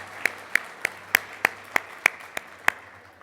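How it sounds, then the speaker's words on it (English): Slow, sparse claps at an international insurance forum come about twice a second, with roughly nine distinct crisp hand claps over a quiet room hum rather than full crowd applause. "so a round of applause."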